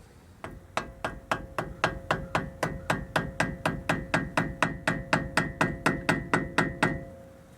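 A hammer strikes metal over and over to knock a nut loose during a front brake job on a Toyota 4Runner, about twenty sharp, ringing blows at a steady quick pace, close and alone.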